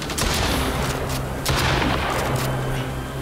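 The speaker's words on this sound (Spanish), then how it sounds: "Hay que moverse, La ametralladora es mejor." Heavy gunfire in a video game sounds as dense bursts of rapid shots and booms, loud and continuous throughout with no talking.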